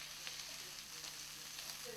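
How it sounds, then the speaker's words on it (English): Ground pork and ground veal fry in a pan over medium-low heat, giving a faint, steady sizzle with light crackles and no voices over it. "add 1 pound of ground pork, add 1 pound of ground veal to the frying pan"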